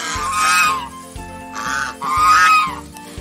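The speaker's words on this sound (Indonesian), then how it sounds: "dan angsa." A goose gives two loud, drawn-out honks close by, separated by short gaps and softer calls, with no talking.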